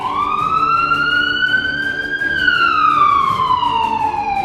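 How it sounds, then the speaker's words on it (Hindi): An air raid siren wails over Sevastopol, loud and sustained, its tone rising slowly for a couple of seconds and then falling, with traffic-like rumble beneath. "इस वक्त सायरन बज रहे हैं।"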